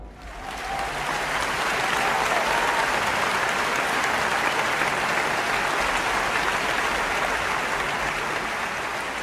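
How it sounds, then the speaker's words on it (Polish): Sustained applause from a large audience, steady dense clapping that swells in quickly and holds for several seconds. "Wielkie brawa dla was."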